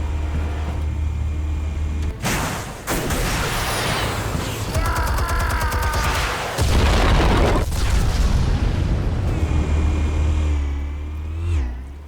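Explosives detonate in Batman: The Telltale Series with heavy booming blasts and rumbling debris, several loud bursts in a row over a dense, roaring background.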